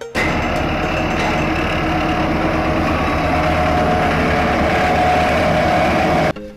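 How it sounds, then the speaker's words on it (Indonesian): A toy excavator comes with a loud, steady engine drone that rumbles evenly and without a break for several seconds before cutting off. "lihat ada mobil beko teman-teman."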